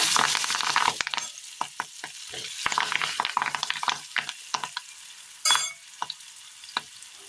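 Curry leaves dropped into hot oil crackle and spit, a sharp burst of sizzling at first that settles into scattered close pops and bursts, no voices.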